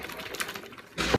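A protein shake is shaken in a shaker bottle: a short burst of rattling, sloshing knocks near the end, close and fairly loud after softer shuffling.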